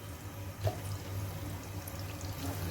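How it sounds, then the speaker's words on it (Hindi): Yakhni meat stock for Kabuli pulao comes to a boil in a kitchen pot, giving a steady, even bubbling and simmering hiss with no one speaking. "यहाँ पे यखनी बॉयल होना शुरू हो चुकी है।"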